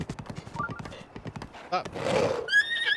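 A horse in The Legend of Zelda: Breath of the Wild gives a bright, close whinny after a run of hoofbeat clip-clops, with a player talking briefly at the start.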